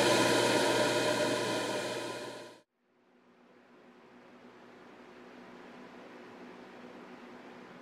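A DIY 12V air cooler's blower motor and pump running with a loud steady whir and hum, which cuts off abruptly and is followed by a much fainter, quieter hum.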